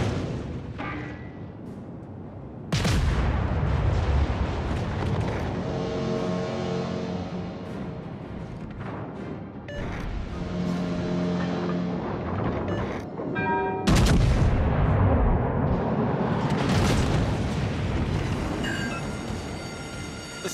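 Naval artillery from a warship video game, where the Agincourt takes on a kraken: heavy booming salvos rumble and roll, with two big blasts standing out over continuous rumbling and a ringing tonal drone.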